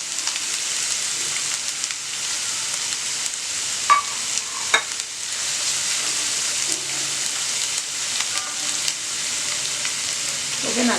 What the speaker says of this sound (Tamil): இது நல்லா வந்து கோல்டன் ப்ரௌனாக வந்து பொரியட்டும்.